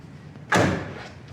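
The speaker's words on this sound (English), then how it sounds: "Door really shuts and fits excellent here on the driver's side." A single solid thud as the driver's door of a 1965 GTO convertible shuts close by, followed by a brief fading rattle.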